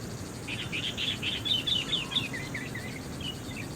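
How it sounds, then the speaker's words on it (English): Birds chirp in a forest in the video game Sleeping Dogs, a quick run of high, bright notes over a steady hum of insects and ambient background. "lush green space with birds chirping and the hum of the forest"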